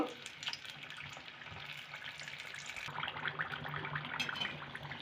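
Spring rolls frying in oil over a medium gas flame give a steady, close sizzling hiss that continues without pause and swells slightly toward the end.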